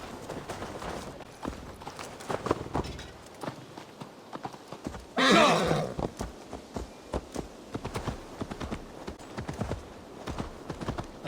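A horse's hooves clip-clop in Assassin's Creed Valhalla, a steady walking rhythm of crisp, fairly close hoofbeats, with a brief whinny-like burst in the middle, then the hoofbeats resuming.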